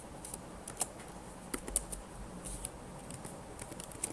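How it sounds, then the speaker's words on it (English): Code is typed on a computer keyboard in an irregular run of light, close keystrokes with a few sharper taps, quiet throughout and free of talk. "So let's type pin mode."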